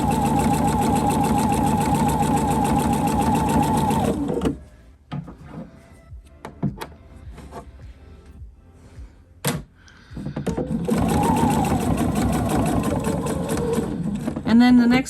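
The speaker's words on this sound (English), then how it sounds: "I'm gonna stitch right up to the corner to whereabouts the seam allowance is that I'm following, and pivot with my needle in to make a nice clean top stitch" Sewing machine topstitching fabric for a tree skirt, pivoting at a corner: steady mechanical running for about four seconds, a pause with small handling clicks, then the stitching resumes near and loud.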